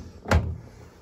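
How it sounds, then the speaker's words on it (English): A single dull thud as the door of a Midea smart washing machine is pushed shut, brief and close, followed by quiet. "Now I'm gonna close this."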